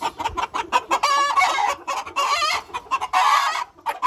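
Chickens and roosters cluck in a busy, overlapping chorus, with several drawn-out calls rising above steady clucking close by.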